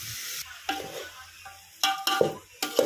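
Country chicken curry being stirred in a pan, with a few short scraping and clinking strokes of a spoon coming in bursts between quiet pauses, faint and close.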